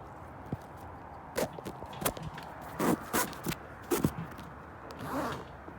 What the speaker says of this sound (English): Now the zippers are loose.